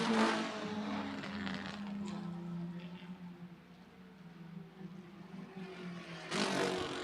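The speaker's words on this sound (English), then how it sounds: "Number 52, Dan Chapman, getting up to speed with the former Skip Barber Brabham BT8 Sports Racer" Brabham BT8 sports racer engine droning steadily on a racetrack, its harmonics rising and falling as it gets up to speed, with a brief louder burst near the end and no talk.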